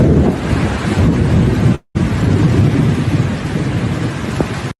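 Loud thunderstorm with heavy rain hitting hard during a fishing trip, a dense roaring wash with low rumble and wind buffeting, cut by one brief dropout.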